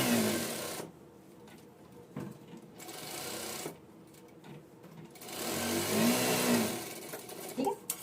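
A sewing machine stitches around all four edges of a princess-cut blouse piece with the main fabric folded inside, running in several loud whirring bursts separated by short pauses, with a voice talking over parts of it.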